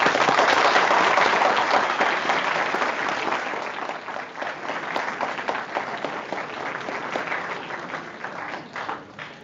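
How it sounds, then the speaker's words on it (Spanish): Symposium audience giving a speaker a strong round of applause, dense steady clapping from a crowd that starts loud and gradually thins over several seconds. "vamos a darle un fuerte aplauso a David García"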